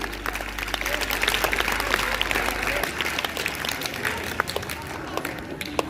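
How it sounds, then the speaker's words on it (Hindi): Loud, sustained applause from students and staff at a school prize distribution, dense clapping with crowd noise and some voices beneath, plus a low hum that stops partway through. "एक जोरदार ताली।"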